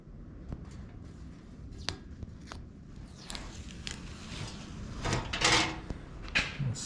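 Material being peeled back off the firewall of a '55 Chevy, a series of close, sharp scraping and tearing crackles with brief clicks, growing louder and denser toward the end.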